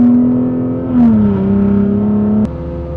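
A Nissan Z engine hums at low revs and creeps up in RPM with noticeable vibration, a steady, loud droning tone that wavers and dips slightly, then steps down abruptly near the end.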